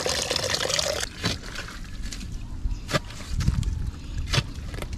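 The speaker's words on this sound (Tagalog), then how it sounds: "Napasok po ang tubig gawa ng high tide po." Tidal water from a high tide pours and gurgles steadily into a fishpond, with a few splashy surges along the way, close and fairly loud.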